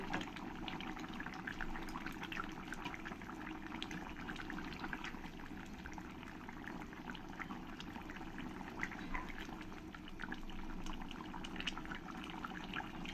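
Tomato stirred into a simmering taro and fish curry in a pan: steady wet sizzling and bubbling with soft scraping, close and continuous, no talk.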